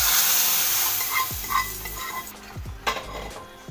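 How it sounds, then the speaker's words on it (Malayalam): Hot tempering poured into a cucumber and potato curry crackles and sizzles up close, with a few soft spoon scrapes and stirring knocks against the pot, loud at first and settling down. "അതിലേക്ക് നമുക്ക് താളിപ്പ് ഒഴിച്ച് കൊടുക്കാം."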